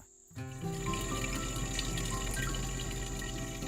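Fresh mountain spring water flowing from a spring, a steady continuous trickle that starts suddenly and carries on evenly, with faint tonal sounds in the background.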